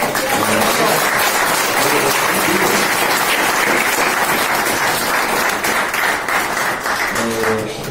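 A church congregation gives loud, sustained applause, a thick wash of clapping filling the room for several seconds, with faint organ or keyboard notes sounding underneath at the start and end.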